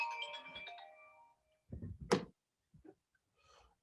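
A mobile phone ringtone chimes out a bright, stepped melody during a talk, ringing for a little over a second before cutting off, followed by a few scattered thumps and shuffles in a quiet room.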